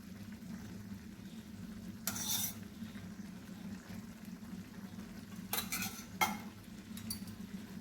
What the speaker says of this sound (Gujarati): ઘી મિક્સ કરી લઈશું બરાબર.